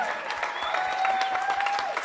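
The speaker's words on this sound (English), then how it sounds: "Give Leela a round of applause" A live audience at an arts and homelessness event applauds a performer named Leela, with dense, continuous clapping across the whole stretch and a thin sustained tone running through it.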